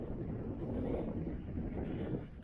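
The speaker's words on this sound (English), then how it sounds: "It's quite a cold wind today." Cold wind on a beach near a port: a steady, low, blustery rumble of gusts buffeting the microphone, continuous and fairly loud throughout, with no voices.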